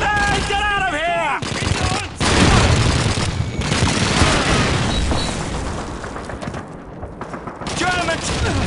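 Call of Duty 2 battle near Caen: a heavy grenade explosion and dense bursts of rifle and machine-gun fire crackle loudly and continuously, with shouted voices in the background between the volleys.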